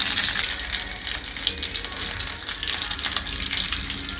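Soybean seekh kebabs frying in hot oil give a steady, crackling sizzle with bubbling spits throughout, close and moderately loud, no talk.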